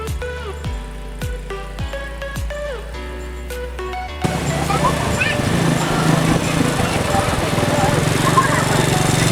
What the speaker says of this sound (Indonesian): ternyata tidak bisa sembarangan juga ya menggunakan ATV ini karena kita harus melawan power steering yang sangat berbeda